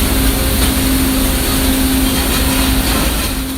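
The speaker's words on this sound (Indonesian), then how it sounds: "Kepala ikan dipotong menggunakan mesin pemotong kepala otomatis." An automatic fish head cutting machine runs on board a modern fishing vessel processing northern red snapper, giving a steady, unbroken mechanical drone with a constant hum throughout.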